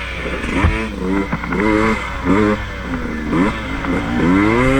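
An off-road vehicle's engine revs and surges in repeated rising bursts on a dirt trail at McLean Creek, loud and close throughout.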